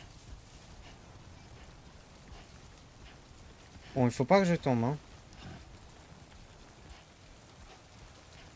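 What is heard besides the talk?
rain falling in the video game Death Stranding 2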